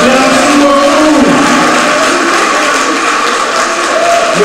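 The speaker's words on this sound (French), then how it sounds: "Le président de l'Union des Ivoiriens de l'Union, qu'on applaudit très fort, s'il vous plaît." An assembly gathered for the president of Côte d'Ivoire's National Assembly applauds loudly in a steady, dense wash of clapping, with a faint tonal hum running beneath it throughout.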